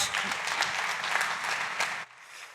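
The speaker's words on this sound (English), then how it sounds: "So please, big applause to Anna" An audience at a startup competition claps loudly and steadily for about two seconds before the applause cuts off abruptly.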